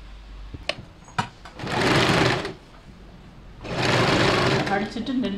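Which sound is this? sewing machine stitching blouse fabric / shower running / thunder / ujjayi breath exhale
sewing machine stitching blouse fabric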